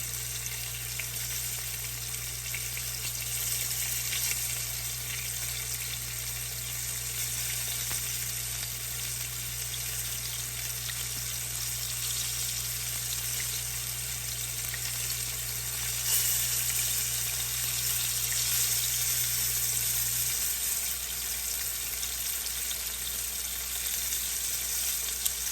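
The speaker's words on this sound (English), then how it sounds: "I wanted to have a nice sear on the side underneath there." Beef cube steak searing in a hot pan, a steady close hissing sizzle that runs continuously with a faint low hum underneath for part of the time.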